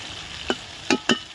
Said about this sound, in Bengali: আমরা বাদামি কালার করে ভেজে নেব মাংসটা